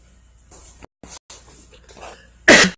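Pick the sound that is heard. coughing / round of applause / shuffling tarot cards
coughing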